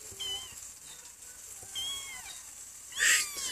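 A cat meows several times at low volume, two drawn-out mews followed by a louder, higher cry near the end, over a quiet room background.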